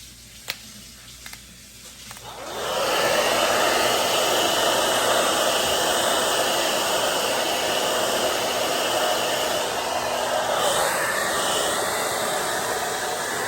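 A hair dryer switches on after a brief quiet moment and blows steadily for over ten seconds, a loud, constant whooshing roar used to dry acrylic paint on tile grout.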